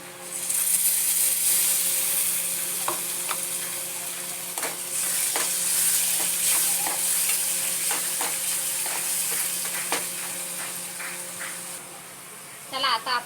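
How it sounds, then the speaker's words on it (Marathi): Tomato gravy added to frying onions for egg masala sizzles steadily in the pan, with repeated clinks and scrapes of a spoon stirring throughout, fairly close and continuous. "आता आपण त्याच्यामध्ये टाका टॅमॅटो ग्रेव्ही"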